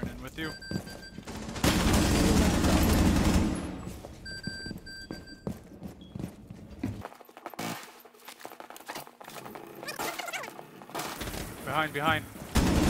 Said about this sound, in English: Ah, he tried shooting.